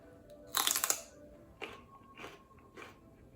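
Crisp crunching bites of chicken salad made with crunchy celery, a loud burst of several crunches up close followed by three softer chewing crunches, with no talking.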